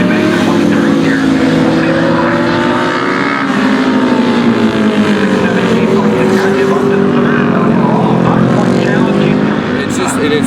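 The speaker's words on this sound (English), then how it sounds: "Is Douglas Dwayne ripping that bike down through that corner and pitching her." A vintage racing motorcycle rips through a corner at a track event, its engine a loud continuous roar rising and falling through the gears while an announcer talks over it.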